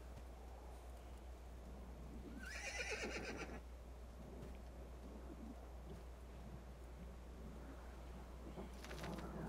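A brown horse in the video game Assassin's Creed II gives one clear whinny, with a second shorter call near the end, over a steady low background hum of wind and ambient game noise.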